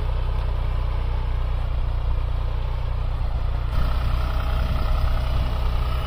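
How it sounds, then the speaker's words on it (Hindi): A New Holland 6510 65 hp four-wheel-drive tractor runs steadily nearby, its diesel engine giving a constant low rumble and throb for the whole stretch, with no talking. "ये देख लो भाइयों 4-व्हील ड्राइव का कमाल, बिल्कुल मस्ती के साथ में ट्रैक्टर चल रहा।"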